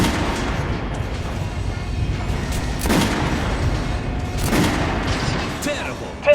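Gunfire in the video game Metro Last Light Redux, with two prominent booming shots a couple of seconds apart over a dense, noisy battle backdrop, and game voices speaking in the mix.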